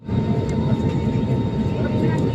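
A passenger jet starting its departure on a Hyderabad to Lucknow flight, its engines giving a steady, loud, broadband roar heard from inside the cabin, continuous throughout with no distinct events.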